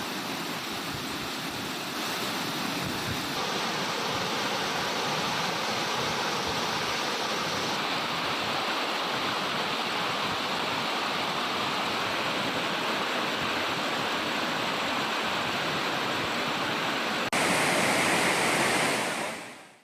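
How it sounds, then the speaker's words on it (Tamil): Megamalai waterfall in flood after heavy rain, a steady, loud, broadband roar of rushing water that fills the whole clip with no voices. "கனமழை காரணமாக மேகமலை அருவியில் நீர்வரத்து அதிகரித்து வெள்ளப்பெருக்கு ஏற்பட்டுள்ளது"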